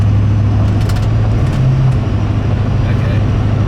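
Ford 6.7 Powerstroke diesel truck with an upgraded turbo accelerating on a hill, a loud steady low drone heard from the cab with a rising tone near the middle, voices talking over it.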